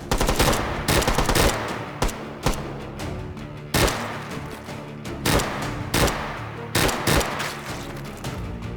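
An Uzi fires in the VR game H3VR in rapid, loud bursts. Short strings of close gunshots are broken by brief pauses, around a dozen clusters in all, sharp and punchy against a busy background.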